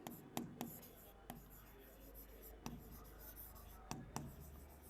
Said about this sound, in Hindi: ये भी मैं लिख के देती हूँ